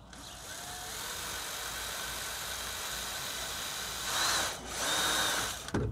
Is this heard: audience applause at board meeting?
no